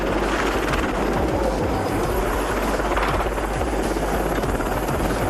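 A helicopter flies close by, its loud, steady rotor thudding and turbine roar filling the whole stretch without letup.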